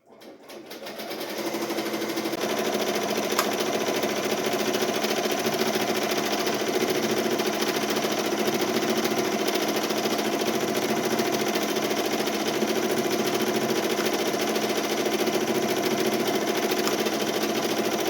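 An embroidery machine stitching a design onto a hoodie held in a Mighty Hoop, running with a steady, continuous mechanical whir and rapid needle chatter that starts up and holds at even loudness throughout.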